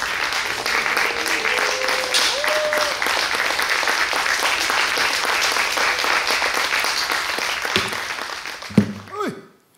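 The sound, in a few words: audience applause welcoming performers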